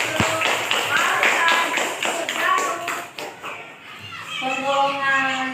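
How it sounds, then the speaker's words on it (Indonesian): Children in a classroom clapping together, a burst of quick, fairly close claps with shuffling and small voices mixed in, fading out as a voice speaks at the end. "Aplaus dulu."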